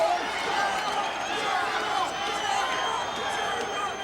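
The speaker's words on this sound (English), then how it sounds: "The crowd starts to shout Gracie. Chant Gracie, Gracie." Arena crowd in the UFC 5 video game chanting a fighter's name, a steady dense roar of many voices sustained throughout at moderate loudness.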